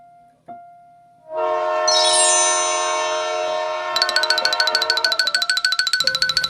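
A train horn sounds in a sustained, bright multi-tone blast, then shifts into a rapid rhythmic pulsing as the train passes, loud and clear after a short click and quiet start.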